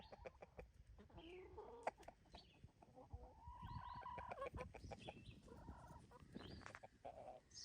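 Chickens on a farm on a sunny morning, with close, faint clucking and short calls that come in irregular bursts, along with scratching and small rustling noises.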